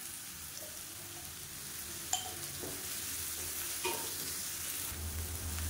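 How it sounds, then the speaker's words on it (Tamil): Onions sautéing in a pan with salt for a mushroom side dish, a soft continuous sizzle broken by a couple of sharp spatula clicks against the pan. "இப்போ வெங்காயம் ஓரளவுக்கு வதங்கிடுச்சு"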